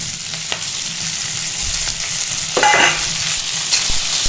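Green chillies and coriander seeds fry in a pan for chutney, giving a steady, close, loud sizzle broken by a few scraping stirs, with no talking.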